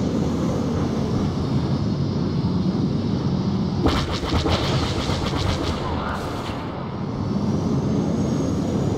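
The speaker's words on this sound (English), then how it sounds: "Bombers have launched and are on their way." Bomber craft flying in Star Wars Battlefront, a steady loud engine roar throughout, with a brief burst of whooshing and crackling midway and no talk.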